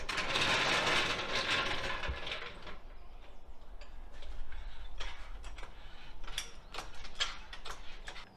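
Rear end of a Honda 400X ATV being lifted on a jack, with repeated metallic clicks and ratcheting pumps, a brief louder mechanical burst at first, then steady close-up taps and creaks.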